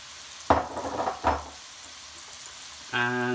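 Onions and carrot tipped into a pan for a vegetarian sofrito, giving two brief sizzling clatters as the vegetables land and are stirred, then a quiet pause before a short tonal hum.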